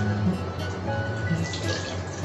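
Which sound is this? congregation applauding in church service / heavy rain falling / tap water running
tap water running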